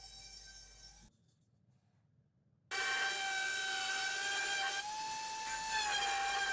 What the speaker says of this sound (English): These what I'm sanding now are some bitter laminated oak and pine